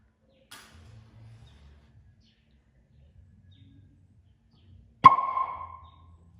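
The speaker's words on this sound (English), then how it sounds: "we all just heard a pop sound" A single sharp pop as collected hydrogen gas is lit rings out with a short decaying tail, following a stretch of near silence with faint low rumbles.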